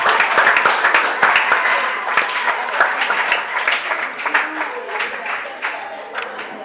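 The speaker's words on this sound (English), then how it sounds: "Let's clap for them." A school audience at a maths quiz claps in a lively, sustained round of applause that fades slightly toward the end.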